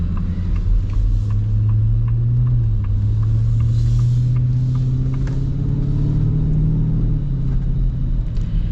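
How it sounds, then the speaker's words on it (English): Steady low engine and road rumble from inside a custom Ford Raptor R creeping through rush-hour traffic, a continuous droning hum with faint higher noises over it and no talking. "where is this traffic coming from? What are these people doing? Well, we're getting into rush hour"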